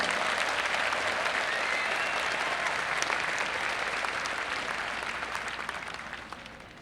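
Sustained audience applause at a university honors convocation for finalists of an outstanding graduating senior award, a dense, even wash of many hands clapping that holds steady and then gradually tapers off.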